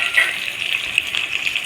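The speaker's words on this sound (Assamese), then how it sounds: "পিঁয়াজখিনি অলপমান ভালদৰে ভাজি ল'ব" Onions sizzle in hot oil in a wok along with bay leaf, five-spice seeds and dried chili. The frying makes a steady, fairly quiet crackling hiss with small pops and no talking.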